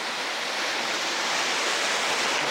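Brook tumbling near a waterfall gives a steady, full hiss of rushing water, close and even for the whole stretch with no voices.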